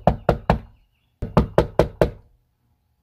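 Police officers knock hard on a door, three loud raps and then a pause before five more, all close and sharp with silence between the bursts.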